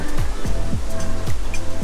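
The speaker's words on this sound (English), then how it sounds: "The waves crashing." Steady wash of water with rhythmic low swells rolling in every half second or so, like waves slapping against a hull, heard from a cruise ship at sea, fairly loud and continuous.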